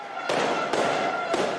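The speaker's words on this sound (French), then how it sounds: "Sous une pluie de feux d'artifice, hier soir, Naples s'est embrasé." Fireworks and firecrackers bursting at a street celebration in Naples, with three sharp loud blasts spaced roughly half a second apart over a steady crackling, smoky din.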